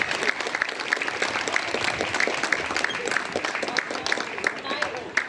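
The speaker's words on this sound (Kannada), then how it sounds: "ಈ ಅದ್ವಿತಾ ದೇಶಪಾಂಡೆ ಅವರ ತಂದೆಯವರಿಗೆ ಒಂದು ಜೋರಾದ ಚಪ್ಪಾಳೆ ಬರಲಿ." An audience at the 2025 Haridasa festival stage in Bagalkot applauds steadily, a dense, fairly even stream of clapping heard under a speaking voice.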